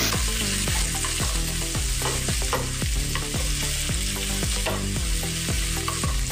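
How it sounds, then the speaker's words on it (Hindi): A spoonful of ginger garlic paste frying in hot oil for dhaba-style palak paneer, stirred in repeated, rhythmic strokes that squeak and scrape against the pan over a constant loud sizzle. "अभी इसमें हम अदरक लहसुन की पेस्ट डालेंगे 1 चम्मच।"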